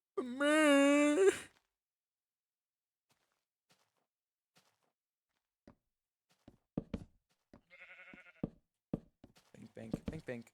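One sheep bleats loudly and close at the start, a long wavering cry. After a quiet stretch come scattered footsteps or knocks and a brief voice.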